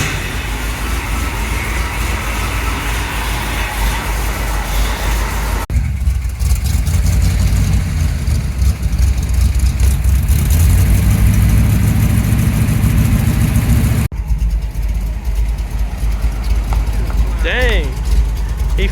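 A Chevrolet C10 pickup with exhaust cutouts and a freshly fitted carburetor idles with a loud, deep, rumbling exhaust, steady and close, while people talk nearby.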